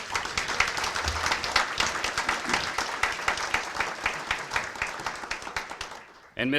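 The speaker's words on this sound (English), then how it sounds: "please join me in a round of applause for Janet Bowen, who put this event together" An audience at a community event applauds, a crowd of hands clapping in a dense, steady burst that carries on for several seconds before cutting off.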